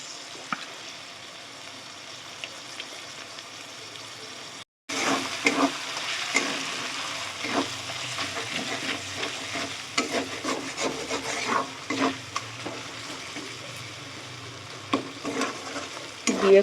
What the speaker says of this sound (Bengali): এর মধ্যে চিকেনের কিমাটা দিয়ে দেবো এবার।